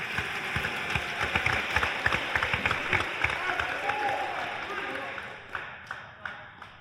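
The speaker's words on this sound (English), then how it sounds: "Round of applause for Frankie Cangelasi." Applause at a college athletics signing day, a crowd clapping steadily at first and then thinning to a few scattered claps, with voices murmuring underneath.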